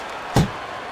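A single heavy punch lands in a Fight Night Champion boxing bout between Wladimir Klitschko and Mike Tyson, a sharp close thud that decays quickly over a quiet background.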